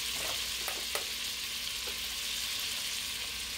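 Butter melts in a hot pan with steady, soft sizzling and frying crackle close by, with a few faint clicks and no voices, as garlic, spinach and cherry tomatoes wait for a grilled cheese sandwich.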